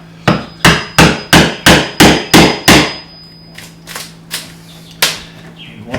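A screwdriver is hammered to knock out a plywood center shelf from its dado, eight sharp evenly spaced blows in a quick rhythm, then a few slower, lighter knocks, close and loud with no talk.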